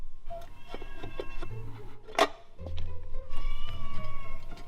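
A house cat meows in a workshop where an offroad bread van seat is being built, giving a single sharp, close cry amid ticking and clattering work noise.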